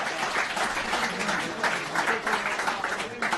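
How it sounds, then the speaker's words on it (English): A fans' forum audience claps for a prize winner, a dense burst of applause filling the room steadily for a few seconds with faint talk beneath. "Round of applause for Matthew, please."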